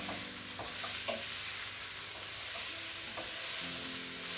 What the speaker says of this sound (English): I just want to saute them, but I'm still doing it on a high heat.